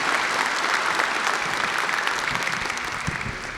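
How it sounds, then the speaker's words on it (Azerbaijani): An audience bursts into sustained, dense applause at a maths olympiad award ceremony in a Baku congress hall, many hands clapping loudly and evenly throughout. "gürültülü bir alqışlarla başlayaq"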